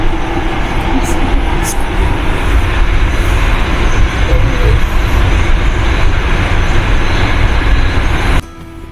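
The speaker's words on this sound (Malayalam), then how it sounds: "അങ്ങനെ നമ്മൾ മെട്രോയിൽ കയറി മോൺമാർട്ടിലോട്ട് എത്തിക്കൊണ്ടിരിക്കുകയാണ്." A Paris metro train riding toward Montmartre, rumbling steadily with rattling wheels and cabin noise throughout, a few brief squeals, before the sound drops sharply near the end.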